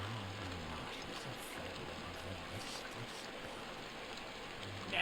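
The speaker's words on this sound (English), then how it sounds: "It's too loud with the rain." Steady rain in the MediEvil video game, a constant hiss of downpour over marshland that fills the scene at a loud, even level with faint low rumbles beneath.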